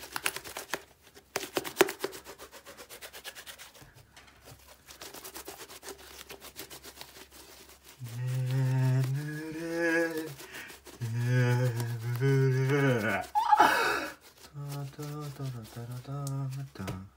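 Slime is squished and stretched close up, making dense sticky crackles and squelches. Later a person's voice and heavy breathing sound over the squishing.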